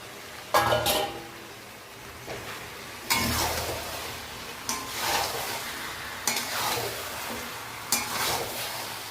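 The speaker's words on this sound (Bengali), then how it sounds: "এই মাংসগুলো এর মধ্যে দিয়ে দেবো, দিয়ে আমরা একটু কষিয়ে নেব" Chicken pieces stir-fried in spices for chilli chicken, a soft sizzle broken by several loud bursts of stirring as the pieces are tossed and scraped in the pan, roughly every second or two; no talking.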